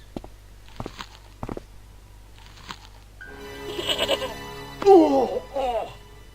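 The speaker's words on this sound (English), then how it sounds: "It's a goat." A goat in the adventure game Broken Sword bleats loudly in a couple of wavering cries after some soft footsteps and clicks, rising clearly above a quiet background hum.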